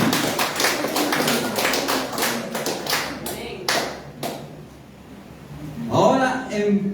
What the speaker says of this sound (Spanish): Cuántos le agradecen a Jesús con fuertes palmas al Señor